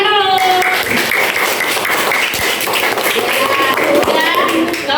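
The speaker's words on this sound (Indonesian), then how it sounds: "Ya, tepuk tangan dulu." A classroom group claps hands together after a student presentation, a close, busy patter of many hands mixed with children's voices talking over it throughout.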